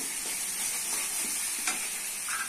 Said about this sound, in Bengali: মশলাটা ভালো করে কষিয়ে দিতে হবে।